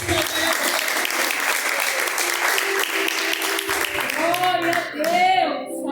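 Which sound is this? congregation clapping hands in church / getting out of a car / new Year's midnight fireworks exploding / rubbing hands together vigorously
congregation clapping hands in church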